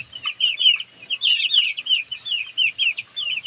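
A flock of chickens clucks and chirps in a small backyard coop, busy overlapping calls at close range with no talking.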